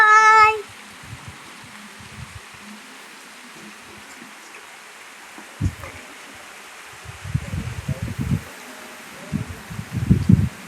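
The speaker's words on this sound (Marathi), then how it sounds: "चांगला जोरात पाऊस चालू आहे." Heavy rain driven by strong wind makes a steady, dense hiss, with gusty low rumbles and rustling swelling up toward the end.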